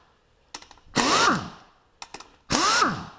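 A power tool removes bolts during the teardown of a 1.6 HDi engine, with two loud, close bursts of whirring motor whine, each preceded by brief clicks and ending in a falling pitch.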